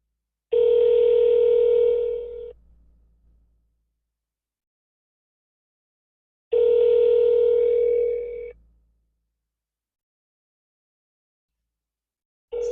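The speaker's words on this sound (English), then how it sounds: "It's actually ringing now." An outgoing phone call rings twice: two loud ringback tones about two seconds long, separated by roughly four seconds of silence, with a third tone just starting at the end.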